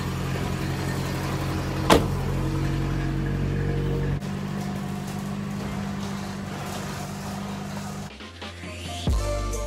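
A high-mileage truck engine with about 99,000 miles runs with a steady, fairly loud hum, then briefly shifts and drops near the end.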